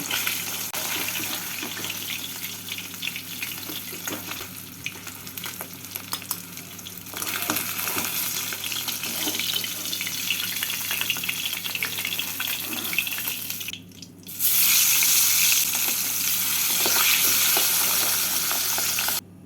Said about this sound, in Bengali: মাছ দুটো ভাজা হয়ে গেছে তুলে নিচ্ছি এইভাবে বাকি মাছ দুটোকেও ভেজে নেব